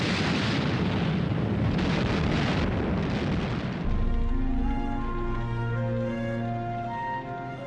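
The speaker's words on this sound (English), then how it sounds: "The Soviet T-34s drove into the German lines and opened fire at point-blank" Soviet T-34 tanks firing at point-blank range in a World War II battle: a loud, continuous roar of blasts and explosions fills the first four seconds, then gives way to a lower sustained rumble with tonal ringing.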